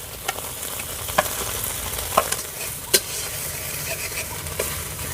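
Spice paste with dried red chili paste being fried and stirred for a village-style fish curry, a steady sizzle broken by a few distinct spatula knocks against the pan, no voices.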